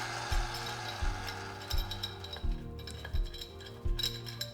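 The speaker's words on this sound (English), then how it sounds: "And then we're going to take a pipe wrench." A pipe wrench tightens a fitting onto pipes, giving repeated metallic clicks and ratcheting clinks at a steady rhythm of about one turn per second, close and moderately loud.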